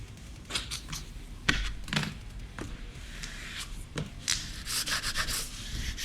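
A hand rubs firmly across the back of a large laminated print, giving repeated dry swishing strokes in uneven bursts, close and fairly quiet.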